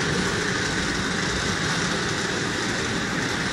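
Model freight train running on a home layout, a constant, fairly loud rumbling hum of small motors and wheels on track, steady and unbroken with no talk over it.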